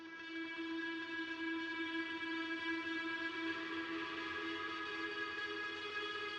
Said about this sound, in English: it's got a washed out guitar sound that I really liked